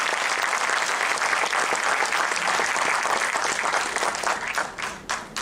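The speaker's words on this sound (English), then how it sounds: "Let us give a big round of applause to welcome Shri R.K." An audience at a leadership lecture series breaks into sustained, dense applause to welcome the speaker, many hands clapping loudly and evenly before tapering off into a few scattered claps.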